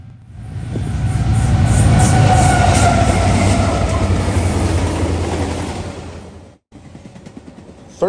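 An eastbound freight train of empty auto racks from Chicago for Detroit's Oakwood Yard, hauled by Union Pacific locomotives, rumbles past loud and close with steady wheel clatter, then the sound fades and cuts off near the end.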